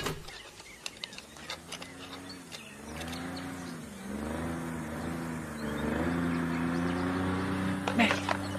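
Car engine approaching in an action film scene, a rising motor drone with shifting pitch that grows steadily louder, mixed with scattered clicks and ticks.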